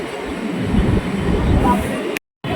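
A local train pulls out of Rishra station, a steady low rumble of wheels and carriage noise with a muffled voice mixed in, heard from on board before a brief dropout near the end.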